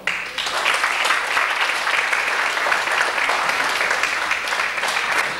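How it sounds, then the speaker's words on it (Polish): Audience applause at a religious song festival in Czerwionka-Leszczyny, a dense, even wash of clapping from a large crowd that starts suddenly and holds at a steady, loud level throughout. "Wielkie brawa za to."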